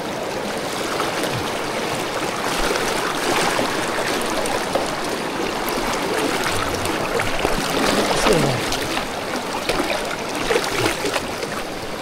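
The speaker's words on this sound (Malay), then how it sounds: "Arus dia kuat ." A strong river current rushes through forest on the Gunung Tahan trail, a steady and loud wash of flowing water that fills the whole stretch without pause, with no voices over it.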